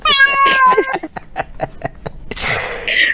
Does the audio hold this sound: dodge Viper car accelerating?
no